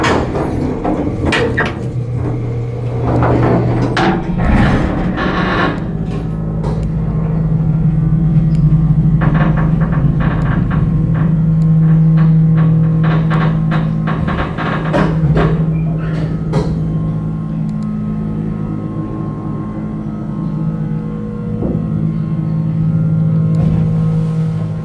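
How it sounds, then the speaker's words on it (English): A hydraulic elevator motor with a swing-door car starts up rough and then runs at a loud, steady hum, with clunks and mechanical knocks scattered through the run. "Nice motor, although it doesn't really sound too good when it starts."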